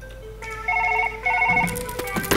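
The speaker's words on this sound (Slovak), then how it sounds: "A zvoní mi telefón." A telephone rings in Surgeon Simulator 2013, two bursts of a warbling electronic trill at moderate loudness, followed by clattering game noises and a voice.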